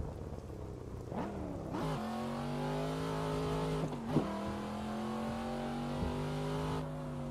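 A Cadillac CT5-V in a sim racing game, its engine revving and rising through gears with clear pitch climbs and drops at each shift, steady and alone with no talk.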